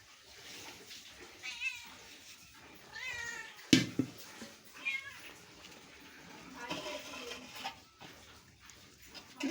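Pet house cats meow repeatedly at close range, with a person talking and imitating the meows in between.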